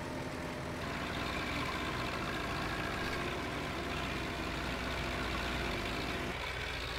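Tractor engine in Farming Simulator 15 on the Terre D'Auvergne farm, a continuous steady rumble that holds at an even level throughout.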